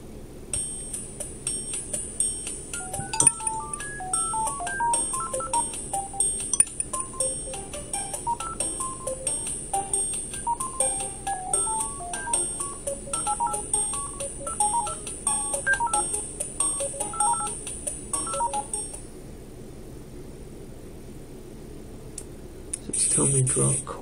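Brain Age game sounds run on a Nintendo DS emulator on an Android device: a steady high electronic tone with small beeping chime-like blips scattered over it, faint and close, then a near-silent stretch and a brief noise at the end.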